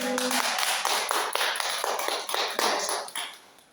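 Audience applause welcoming a performer at a Korean talk and performance event, a dense wash of many hands clapping steadily and fairly close, thinning out near the end.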